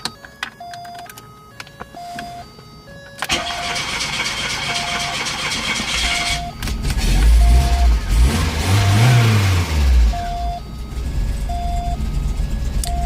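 A 1987 Volkswagen Jetta's engine cranks over a repeating dashboard chime, catches and revs, then settles into a loud, uneven rough idle with surging revs, heard up close with no one talking.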